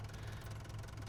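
A tractor engine in a farming video game on Drumard Farm idles with a steady, low mechanical hum and faint rhythmic knocking, continuous and unaccompanied by speech.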